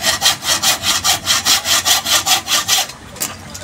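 A dull hand saw cuts through wood in about fourteen steady, rhythmic rasping strokes, loud and close, ending with a few softer scrapes.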